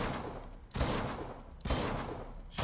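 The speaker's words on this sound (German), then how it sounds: "Schön Magnum-Schüsse" Two loud, booming Magnum pistol shots in Uncharted 2: Among Thieves, spaced about a second apart, each followed by a rolling echo.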